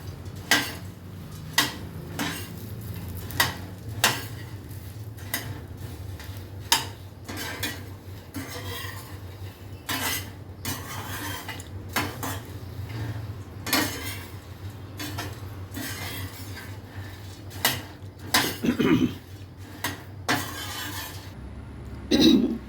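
Ragi puffs mixed with roasted gram and fried mustard seeds in a vessel, a long run of repeated scraping and clinking strokes of a spoon against metal, moderately close, with no speech.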